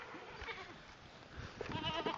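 Goats on a farm bleat softly at some distance in a quiet setting, with a few wavering cries near the end.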